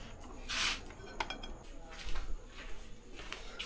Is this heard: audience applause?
no